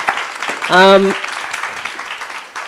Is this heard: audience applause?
yes